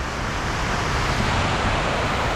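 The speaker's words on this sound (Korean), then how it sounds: "네 군데 싹 다 폭포처럼 물이 흘러내려가게 만들어 놓고" A loud, continuous rush of falling water from the 9/11 Memorial fountain in New York fills the air, like a waterfall, steady and unbroken.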